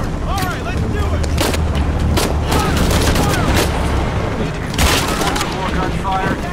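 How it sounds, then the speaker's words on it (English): Heavy gunfire in the video game Shadow of the Tomb Raider, loud continuous bursts and booms of a firefight with shouted voices mixed in throughout. "More gunfire."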